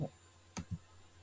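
A single sharp mouse click in sticker cutting-machine software, then a softer second tap just after, close and crisp against a quiet room with no voices.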